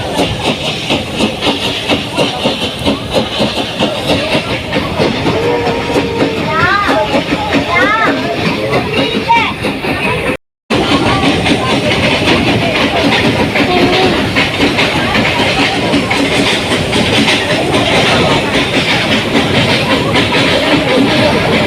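Ooty mountain toy train running on rails between Mettupalayam and Ooty, a continuous rumble with clickety-clack and hiss heard from aboard, with voices talking over it and a brief dropout midway.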